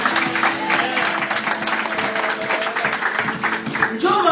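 A church congregation claps and cheers, with dense, rhythmic applause and some voices carrying through for the full stretch, fairly loud and close.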